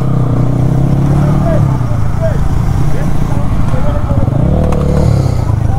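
A motorcycle with a loud aftermarket exhaust rumbles and revs nearby, its deep throaty engine sound continuing under a person talking.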